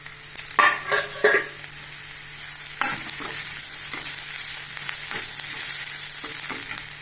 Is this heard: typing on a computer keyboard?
no